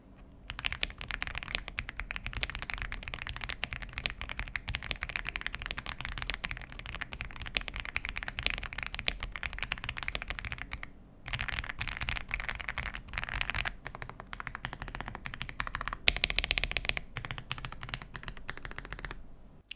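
Typing on an Aula F75 mechanical keyboard with Ice Vein switches and a plastic board with no foam. It gives a dense, fast stream of close, crisp clacks, with one brief pause partway through.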